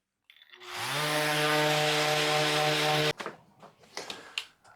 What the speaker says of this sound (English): So I'm just going to give this a sanding to get rid of this seam and these dark marks